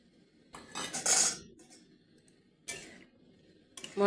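Fried cauliflower and green peas go into a pot of boiled mung dal, giving a few separate clattering spoon-and-pot clinks in short bursts with quiet gaps between, fairly close.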